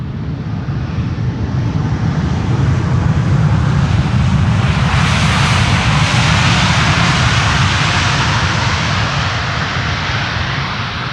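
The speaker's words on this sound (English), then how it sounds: "Reversers being applied there." A large airliner landing at Amsterdam Schiphol with thrust reversers applied, producing a loud, sustained roar that swells into a broad rushing blast midway and holds steady to the end, with no talk.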